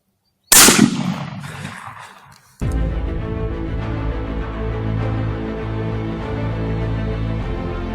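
A single loud, close rifle crack from a Remington 700 in .223 during predator hunting, fading briefly before a steady hum of wind or ambient noise takes over.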